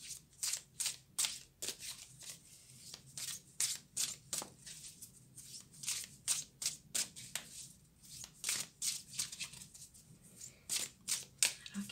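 Tarot cards being shuffled, handled and laid down one after another, a rapid run of soft close papery slaps and flicks, quiet and with no talk.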